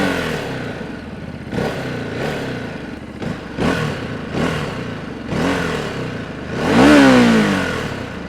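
Exhaust of a Ducati Desert X motorcycle revs repeatedly in short, punchy blips with a rising wail on the final, longest throttle burst, heard loud and close with engine idle between.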